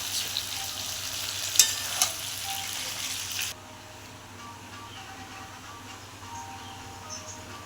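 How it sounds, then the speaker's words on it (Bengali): Eggplant frying in hot oil in a home kitchen pan gives a loud, steady sizzle with a couple of sharp utensil clinks, then drops to a quieter, softer sizzle halfway through. "বেগুনটা লাস্টে ভাজতে বসেছি"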